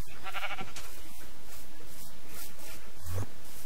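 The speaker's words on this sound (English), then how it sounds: "I'm trying to kill this one sheep" Sheep in the Minecraft video game bleats in a short, wavering burst early on, followed by steady game background noise and a few small clicks, with no talking.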